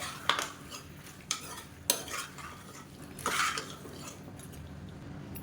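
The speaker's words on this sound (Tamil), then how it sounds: "இதையும் சேர்த்து வதக்கிடலாம் தக்காளியோடு சேர்ந்து இதுவும் நல்லா வதங்கிடும்" Vegetables and tomatoes sautéing in a pan, stirred with a utensil that gives several distinct scraping clinks against the metal over a faint steady sizzle, with no speech.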